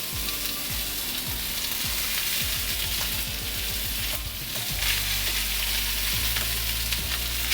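Cooked rice drops into a hot oiled pan for fried rice, setting off a loud, steady sizzle and crackle of frying, with scraping stir sounds repeating underneath throughout.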